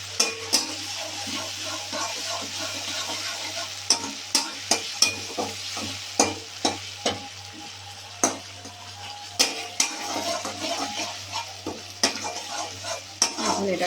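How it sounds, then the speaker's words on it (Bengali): Spice paste and tomato cooking in hot oil, a continuous soft sizzle broken by repeated sharp scrapes and knocks of a spoon stirring the pan, close up and without talk. "দিয়ে এখন মশলাটাকে কষাবো। টমেটোটাও দিয়ে দিই একটুখানি তেলের মধ্যে।"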